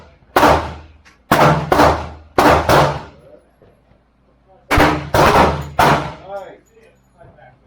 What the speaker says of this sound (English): Now we're going to fire.